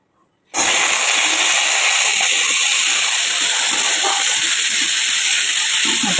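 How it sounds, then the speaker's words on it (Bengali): Potato, yardlong beans and pointed gourd hit hot oil in a kadai. A loud sizzle bursts out suddenly after a moment of silence and then holds as a steady, close hiss. "কড়াতে তেল দিয়ে দিয়েছি এবার দিয়ে দেবো দেখো এর মধ্যে আলু বরবটি আর পটল আছে"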